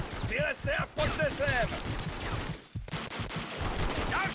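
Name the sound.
gunfire in the video game Vietcong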